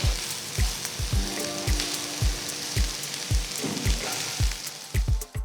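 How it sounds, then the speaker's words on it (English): Thinly sliced onions sautéing with potatoes in a pan for a Spanish omelette: a constant close sizzle punctuated by about a dozen dull spatula thumps at a steady, slightly uneven rhythm, with no talking. "So after adding the onions, saute for about 2 to 3 minutes."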